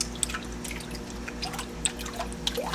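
Water churned by a Jebao WP40 wave pump in an aquarium tank, a steady low hum under scattered small drips and splashes, fairly quiet and close.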